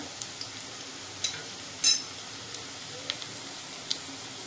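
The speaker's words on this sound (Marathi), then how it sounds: "कांदा आपला चांगला भाजून झालेला आहे" Onion fries in a pan for mutton rakti, a soft steady sizzle with faint occasional pops and one brief stir, low and close.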